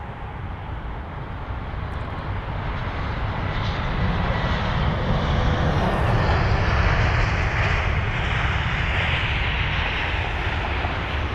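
A 22-year-old British Airways Airbus A320 on arrival at London Heathrow, its jet roar steady and broadband, building slightly and holding loud throughout with no talk.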